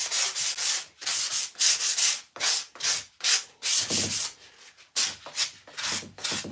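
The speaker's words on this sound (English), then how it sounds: "all I'm going to do is use a Dixie Belle sanding sponge" A Dixie Belle sanding sponge lightly scuffs painted wood furniture in steady back-and-forth strokes, a close, continuous rasping rub broken by short pauses between passes.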